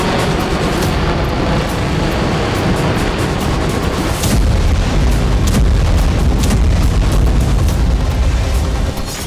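A continuous roar of noise, then a deep, heavy explosion rumble from a Russian Iskander missile strike in the Russia-Ukraine war swells midway and keeps booming low and loud to the end.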